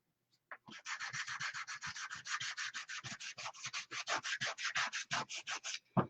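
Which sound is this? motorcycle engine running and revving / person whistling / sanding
sanding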